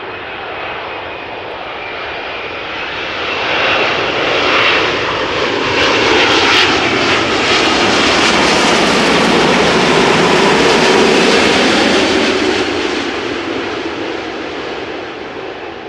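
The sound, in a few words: Air Canada Boeing 787-8 jet arriving at Amsterdam Schiphol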